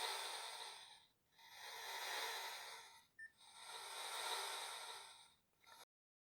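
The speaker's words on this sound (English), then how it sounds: "that is supposed to be a breathing sound" A 1980 Palitoy Action Man ROM the Space Knight toy plays its electronic breathing effect, a hissy synthetic inhale-exhale repeated in three long, even swells with short pauses and a small click between them.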